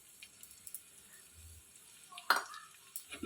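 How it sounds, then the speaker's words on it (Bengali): Mustard powder, salt, turmeric and sugar stirred into a puti fish curry, with soft scraping and stirring strokes in a quiet pan and one brief louder clink of a utensil partway through. "এটা আমি এক মিনিট মতো জাস্ট নাড়াচাড়া করব"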